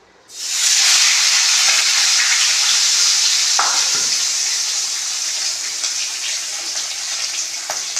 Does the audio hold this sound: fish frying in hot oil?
yes